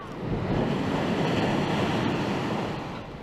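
Big waves crash onto the seaside promenade at Heng Fa Chuen, Hong Kong, during Super Typhoon Ragasa, making a continuous loud roar of surf mixed with gusting wind, with no voices.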